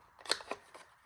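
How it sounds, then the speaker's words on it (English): Two or three quick snips of a corner-rounding punch or scissors trimming the corners of a folded paper envelope, close and soft, with light paper rustle. "And then I'm just going to corner around these two corners, so it gives me that envelope closure look."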